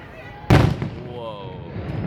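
A single loud firework explosion over Amman Citadel on Jordanian Independence Day, a sharp boom that trails into a rumbling echo and fades into steady background noise.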